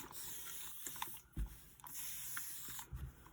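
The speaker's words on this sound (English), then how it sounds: "I just spray the whole thing down." A sustained hiss of spray runs almost continuously, broken by a few brief pauses and soft knocks, close and fairly quiet.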